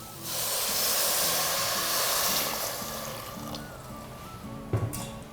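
Water pours steadily into a pot of rice, about five cups, with a loud, hissing rush that eases gradually, ending with a couple of brief clanks.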